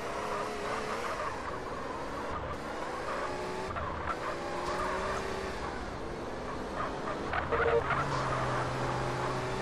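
Car engine and skidding tires in GTA San Andreas, an old car driven around with steady motor drone, repeated squeals and slides, loud and continuous throughout without talk.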